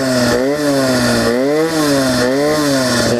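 A small engine with a loose choke screw revs loudly and close up, its pitch rising and falling in uneven surges as it runs rough and hunts, with nothing else heard.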